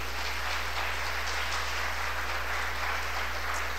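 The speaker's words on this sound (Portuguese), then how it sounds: "Você pode aplaudir o Senhor bem forte, querido?" A church congregation claps during a sermon, a broad, steady wash of many hands applauding evenly throughout, heard somewhat distantly under a low constant hum.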